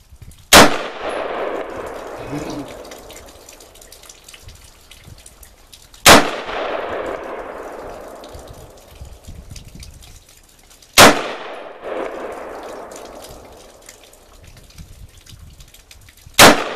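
Four sharp, loud gunshots from a new handgun at a shooting range, spaced about five seconds apart, each followed by a ringing decay.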